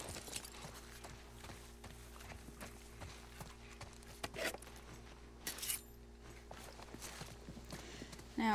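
Steady hoofbeats of a horse walking at a slow, even pace in the video game The Last of Us Part 1, with a low constant hum underneath and a few soft rustles.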